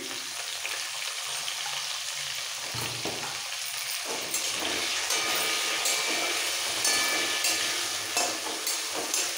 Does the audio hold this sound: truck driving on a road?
no